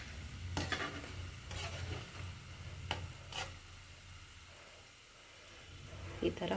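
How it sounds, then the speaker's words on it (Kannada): Gulab jamun balls frying in oil, a faint, steady bubbling sizzle with several soft crackles and utensil taps, heard close but quiet, no clear voices. "ಈ ಥರ ಫ್ರೈ ಮಾಡ್ಕೊಳ್ಳಿ."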